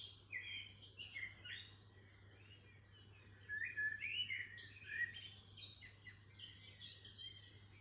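Small birds chirp and twitter continuously in an outdoor spot near guinea pigs. The calls are faint and a little distant, in overlapping bursts over a low steady hum.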